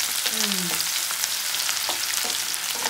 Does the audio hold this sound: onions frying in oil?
yes